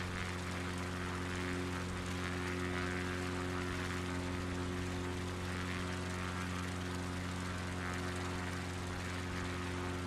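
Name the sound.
airplane engine in flight, from a video game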